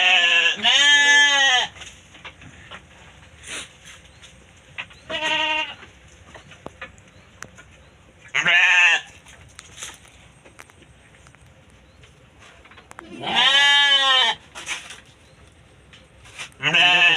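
Young ewes of a local sheep breed bleat in loud, wavering bursts, about five calls spaced several seconds apart with quieter pen noise between them.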